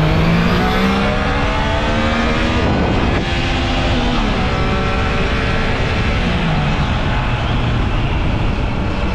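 A Triumph Trident 660 motorcycle roars loudly and close while riding, its engine note climbing through gears with a brief dip and shift before pulling hard again, no talking.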